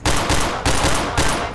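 Three loud bursts of gunfire in the game Cry of Fear, multiplayer, in quick succession, each a harsh, noisy blast with a short gap between.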